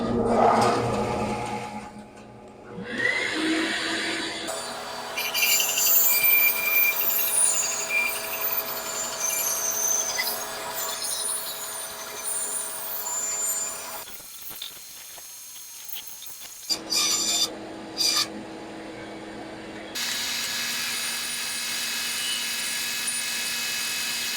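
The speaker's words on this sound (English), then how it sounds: "we'll take this over to the bandsaw and cut these out" A bandsaw cutting wooden bowl blanks. It runs with a whining hum, and the cuts come as bursts of harsh, buzzing rasp between quieter gaps and brief pauses.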